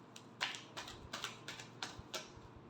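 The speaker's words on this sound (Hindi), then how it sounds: "Last shuffle." Tarot cards being shuffled by hand, a quick series of soft crisp riffling snaps in a steady rhythm, close and quiet with no talking.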